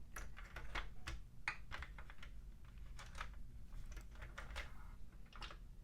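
Sentro or Addi plastic circular knitting machine cranked through a row, giving a steady stream of quick clicking and clacking at close range, with no voices.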